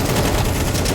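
A continuous spray of automatic gunfire from Counter-Strike 2, loud and close, with rapid shots running for the whole second.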